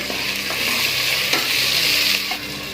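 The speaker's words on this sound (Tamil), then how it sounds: "வெங்காயம் நல்லா வதங்கின உடனே இப்போ தக்காளி சேர்த்துடலாம்." Tomato sautés with onions in a pan for mutton kulambu, a continuous close sizzle and frying hiss with a few faint stirring clinks and scrapes scattered throughout.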